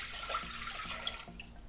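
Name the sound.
water and yeast poured into a Thermomix bowl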